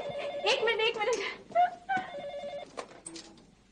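Telephone bell ringing indoors in a Hindi TV drama household, repeated electronic rings in short bursts, moderately loud, interleaved with talking voices.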